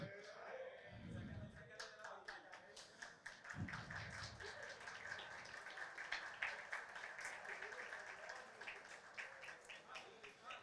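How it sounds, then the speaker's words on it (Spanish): Quiet audience applause at a tech talk on crafting NES games, scattered claps rising into a steady patter, with a couple of low thumps early on and a faint voice now and then. "Esos aplausos son para Johnny"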